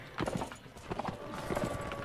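Horse hooves clip-clopping in the Mount & Blade: Warband video game, Ottoman mod, a few quick, uneven bursts of hoof strikes at mid distance over steady background game noise.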